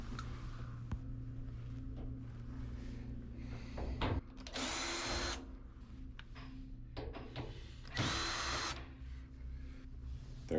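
A power driver whirs in two short, loud bursts over a steady background hum as screws are backed out of the bulkhead on a Samsung dryer during a repair for a no-start fault.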